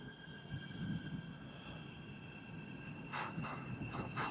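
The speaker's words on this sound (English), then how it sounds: "That's one of the metro trams" Metro tram rumbling along a viaduct overhead in a city district of massive rail viaducts, a steady low roar with faint rattles and a high whine, moderately distant, no talking.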